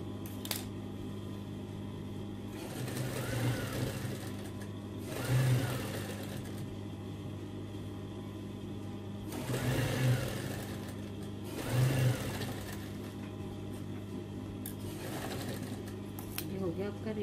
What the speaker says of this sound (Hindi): मैं इसके बाद इसको यहाँ से इसके ऊपर सिलाई लगाऊंगी।